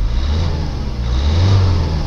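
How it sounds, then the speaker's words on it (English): A Vauxhall Astra 1.7 CDTI diesel engine revs up, holding a steady loud drone that rises slightly in pitch toward the middle before settling, close and alone. "Engine revs up perfectly."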